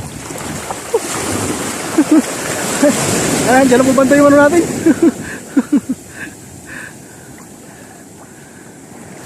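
Heavy sea waves slosh and roar around a small fishing boat out on rough, murky water, with strong wind buffeting close by while someone talks over the noise.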